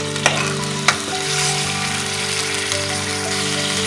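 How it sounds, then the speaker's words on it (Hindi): Half a kilo of chicken fries in oil in a karahi for Afghani chicken karahi, a loud, dense, continuous sizzle with two sharp utensil knocks early on. "मेरे पास चिकन है हाफ केजी, जो कि मैं ऑयल में डाल के फ्राई कर लूँगी"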